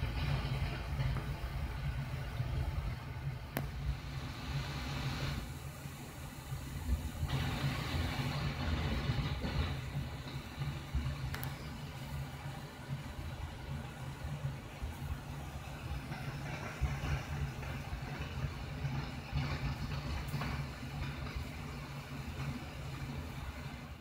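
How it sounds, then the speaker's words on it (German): Loud, steady rushing of the air conditioning in an ÖBB Nightjet sleeper car, which cannot be turned down, runs continuously over a low rumble from the moving train. No one speaks. "Dafür rauscht zumindest in diesem Wagen die Klimaanlage ziemlich laut."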